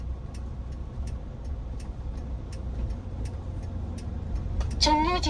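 A car's turn signal ticks in a steady, even rhythm through the cabin during a Korean driving-school road test, with engine rumble underneath and a voice coming in near the end.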